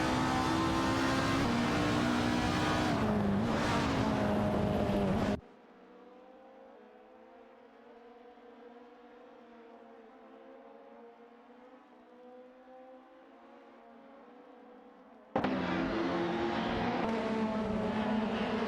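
Race cars in a racing video game, including a Nissan Primera P11 and a Ford Mondeo: loud, dense engine howl at the start and end, with a long quiet stretch of faint, distant engine hum in between.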